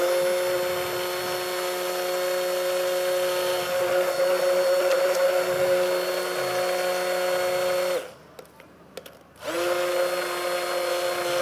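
A hand blender whirs steadily while mixing powdered pavlova ingredients, a constant motor hum with a bright whine, cutting out briefly for about a second before starting up again.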